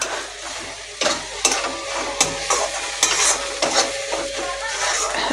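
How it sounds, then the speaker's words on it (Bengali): Tomato masala with cumin, coriander, turmeric and chili powder frying in a pan, a close, crackling sizzle broken by repeated sharp scrapes and clanks of a spoon stirring against metal. "এবার আমি জিরে ধনে হলুদ লঙ্কার গুঁড়োটা দিয়ে আর এক মিনিট রান্না করে নেব"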